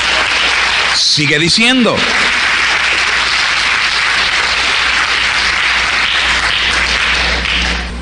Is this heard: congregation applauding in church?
yes